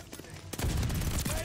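Global Actor SMG fire in Call of Duty Vanguard, a dense, loud burst of rapid automatic gunshots starting partway through and continuing to the end.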